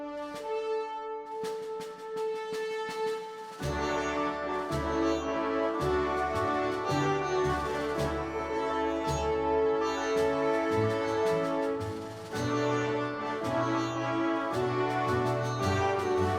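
Keepers of the Lock from the game Final Fantasy XIV plays as a dense orchestral theme, a sparse opening swelling into a full, steady ensemble with a strong low end, continuous and without voices.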